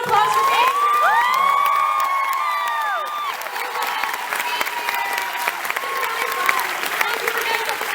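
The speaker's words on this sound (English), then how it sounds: "make sure you give Harley a big round of applause for being here" Audience applause and cheering at a live comedy podcast taping in Toronto, loud and sustained across the whole stretch, with whoops and shouted voices riding over the clapping.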